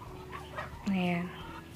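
Brahma chickens and a rooster give a short, close cluck standing out over a quiet coop, with faint background sound around it.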